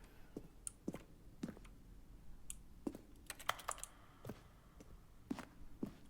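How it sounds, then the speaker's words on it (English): Quiet, scattered button presses from The Stanley Parable Ultra Deluxe, each a keyboard keystroke blended with a short synthesized tone, arriving as separate clicks in an irregular sequence. "A selection of sounds used throughout the game when buttons are pressed. Each sound is a mix of a keyboard stroke and a synthesized tone."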